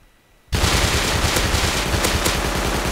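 Rapid automatic gunfire in a shooter video game bursts in suddenly after a brief quiet moment, loud, dense and sustained, with steady rattling rounds.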